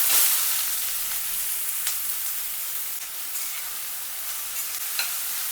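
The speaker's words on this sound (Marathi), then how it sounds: "मध्यम आचेवर कांदा छान भाजून घ्यायचा." Onion sizzling and frying in hot oil in a heavy-bottomed kadhai over a gas flame, a steady close crackling hiss with occasional stirring scrapes, no voices.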